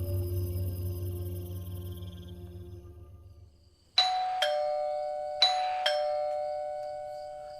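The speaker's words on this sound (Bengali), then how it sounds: "কে বারবার কলিং বেল বাজাচ্ছে?" An electronic doorbell rings four times in quick pairs, clear two-tone chimes with ringing decay, loud and close, after a fading low ambient hum in a quiet room.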